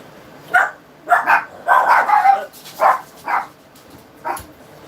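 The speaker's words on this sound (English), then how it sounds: "And my puppies are barking." Small dogs bark in short bursts, several yaps in quick succession and then a couple of spaced barks, fairly close and clear.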